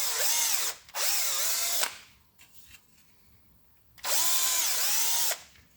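A power drill bores shallow holes for 8-gauge self-tapping screws in a Holden Torana dash panel, two loud close whirring bursts with speed dipping as the bit bites, separated by a quieter pause.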